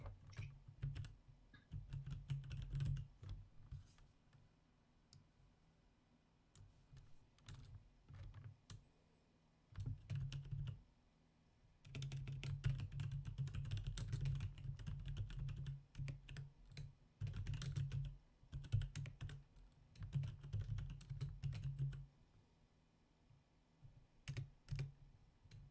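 Rapid typing on a computer keyboard during a livestreamed Warzone tournament, long stretches of close, busy key clatter broken by brief quiet gaps, with no talking.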